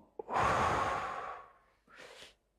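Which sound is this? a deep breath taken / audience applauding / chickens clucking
a deep breath taken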